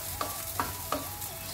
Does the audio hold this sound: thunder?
no